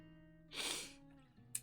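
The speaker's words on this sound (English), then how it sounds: "And yes, that was a sneeze." A single stifled sneeze, a muffled breathy burst held back through the nose and mouth, close to the mic against a quiet steady hum, with a faint click just after.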